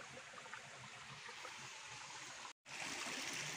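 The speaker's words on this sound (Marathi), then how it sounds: "दगडात नाही पाणी येतं आतमधनं" Water trickling out from inside a rock beside a natural stream in the Konkan, a steady close wash of flowing water that cuts out briefly near the end and then resumes.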